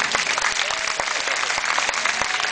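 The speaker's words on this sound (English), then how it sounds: "How about a round of applause for Rocky?" An audience at a crocodile show claps for Rocky the crocodile, a dense, steady round of applause with no talk over it.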